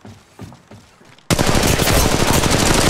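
Loud, sustained video-game gunfire aimed at the player erupts suddenly after a quieter stretch of scattered shots, then continues as a dense, continuous burst of rapid automatic fire.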